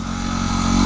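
A Yamaha WR250R dual-sport motorcycle engine hums at a steady mid-pitched drone, close and fairly loud, with the tone rising slightly toward the end.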